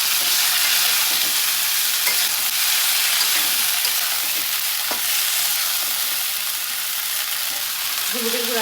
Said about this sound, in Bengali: এখন আমি এই যে বরবটিগুলো দিয়ে দিলাম